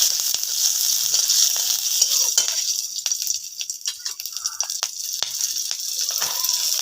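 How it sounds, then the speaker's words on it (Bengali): Green chillies and five-spice tempering sizzle in hot oil for sour dal, a steady bright crackle with scattered pops and a few light utensil clicks throughout, no voices. "2টোর মতো কাঁচা লঙ্কা ভালো করে ভেজে নেব।"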